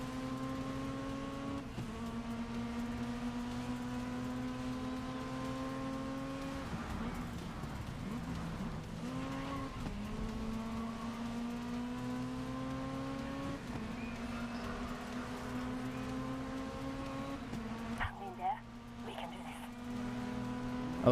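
Rallycross race cars in the racing video game GRID Legends, engines droning steadily with rising and falling revs as they run laps, with brief shifts and a louder burst near the end.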